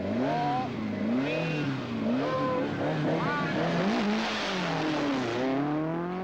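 A 1977 Rallye de Portugal rally car engine revs hard at the start on a warm evening, rising and falling through repeated sharp bursts of acceleration, loud and close.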